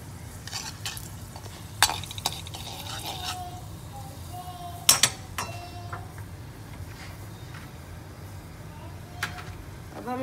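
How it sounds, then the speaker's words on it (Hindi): Chana dal fries in a pan for temple-style South Indian curd rice, a continuous close sizzle with scattered sharp clicks and clinks of a utensil against the pan. "अब हम इसे थोड़ा सा फ्राई होने देंगे।"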